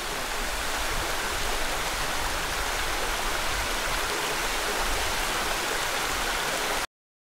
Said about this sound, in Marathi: वॉटरफॉल पूर्ण येतोय असा पण.